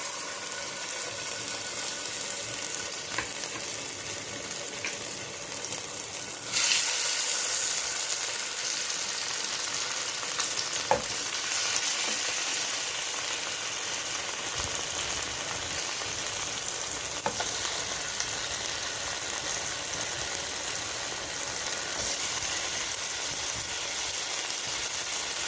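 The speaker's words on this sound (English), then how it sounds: "we'll start by frying the chicken" Chicken frying in hot oil for an oriental stew, a constant bright sizzle and crackle that holds steady throughout with occasional stirring sounds.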